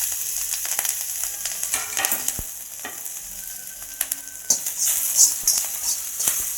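Green chillies frying in hot oil while making a fasting chivda, a steady crackling sizzle with brief sharp pops and scraping stirs, close and moderately loud with no talk.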